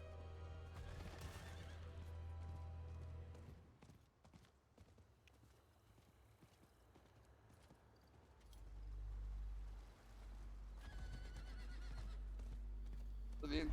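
Horse neighs and hoof clip-clops from a mount in the Diablo IV video game, a loud whinny early on, then galloping hooves with low rumbling, and voices murmuring faintly in the background.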